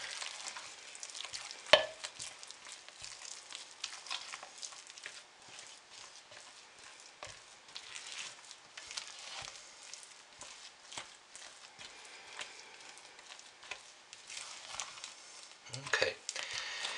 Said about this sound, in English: that looks pretty well stirred in